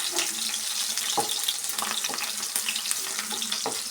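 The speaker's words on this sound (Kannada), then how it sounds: "ಆಯಿಲಲ್ಲಿ ಚೆನ್ನಾಗಿ ಫ್ರೈ ಮಾಡ್ಕೊಳ್ಳೋಣ. ಫ್ಲೇಮ್ ಕಡಿಮೆ ಇಟ್ಟು ಫ್ರೈ ಮಾಡ್ಕೊಬೇಕು." Garlic frying in oil over a low flame, a dense continuous sizzle with a few light scrapes and knocks from stirring, close and steady.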